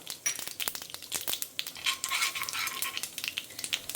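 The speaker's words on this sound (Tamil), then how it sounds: "இது பொரிஞ்ச உடனே கடுகு நல்லா பொரிஞ்சு வெந்தயமும் செவக்க ஆரம்பிச்சுடுத்து" Mustard and fenugreek seeds splutter in hot oil for a sambar tempering, a close, irregular crackle of sharp pops and hissing that bursts densely in places and never settles into silence.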